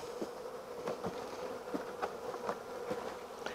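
Honeybees buzz steadily in a low drone close by during an early spring hive inspection, with faint knocks and shuffling from handling the hive.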